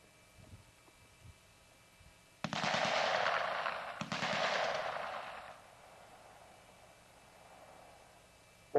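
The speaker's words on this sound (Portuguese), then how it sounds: "Agora, os tiros de uma metralhadora de mão 9mm Beretta a 100 metros." Bursts of 9mm Beretta submachine gun fire at 100 metres on a recruits' field range, two sustained rattling volleys a few seconds long, the second trailing off into echo, heard from a distance.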